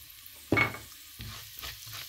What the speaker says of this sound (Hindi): ऑयल जैसे ही गर्म होगा इसमें मैं जो हूँ 1 टीस्पून जो है वो ज़ीरा डालूँगी